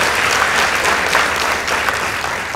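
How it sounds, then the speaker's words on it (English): An audience at a school debate contest claps briefly and densely, a short burst of steady applause close and fairly loud with no pause. "Let's appreciate them with a round of applause."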